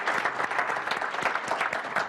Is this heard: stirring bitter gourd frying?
no